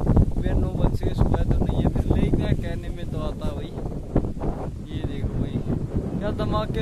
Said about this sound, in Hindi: धमाकेदार वही हवा चल रही है भाई।